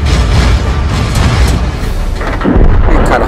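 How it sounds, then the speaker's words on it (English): An artillery shell hits in World of Tanks with a loud, dense rumbling blast, followed by a heavy, sustained low roar and a second swell near the end. "Artillery gonna fire at the American Heavy"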